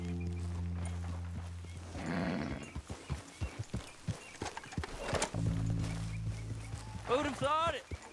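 Horse hooves clip-clopping in Red Dead Redemption 2, a run of distinct close hoof strikes in uneven rhythm, with a horse whinny near the end and voices talking over parts of it.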